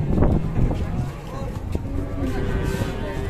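White cattle at a lively bull-handling event give low moos close by, mixed with shouting voices and general crowd noise.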